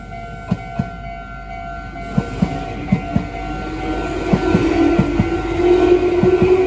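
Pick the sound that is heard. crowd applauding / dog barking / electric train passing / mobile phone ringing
electric train passing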